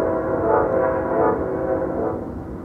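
Train horn blasts from a second train passing across, a loud sustained blare with swelling pulses that holds throughout, heard outdoors on a hike.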